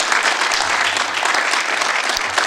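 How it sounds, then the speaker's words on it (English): Audience applause for the Gamma Psi chapter brothers at St. Augustine's University, dense steady clapping from a crowd, loud and close throughout. "Let's give our brothers a round of applause"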